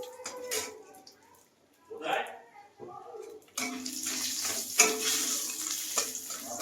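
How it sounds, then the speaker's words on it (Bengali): Homemade bori lentil dumplings drop into hot oil in a home kitchen, starting a steady, loud sizzle and crackle after a few soft clinks and stirring sounds, with someone talking beforehand. "এবার বড়ি ভেজে নেব"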